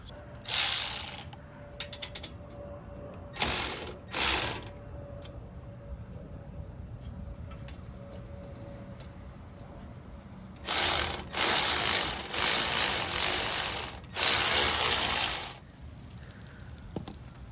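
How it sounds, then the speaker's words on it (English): A ratchet wrench clicks rapidly in several bursts while a nut on the front brake caliper of a Ford F-150 is worked, loud and close, with longer runs near the end and quiet gaps between. "you can put one of the top nuts on top, screw it in a little bit, so now you can adjust the bottom one"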